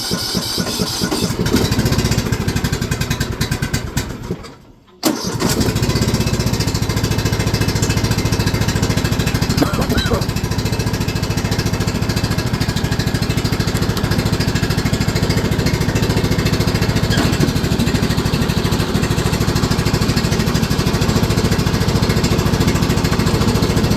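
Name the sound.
Spartan mower engine running at full throttle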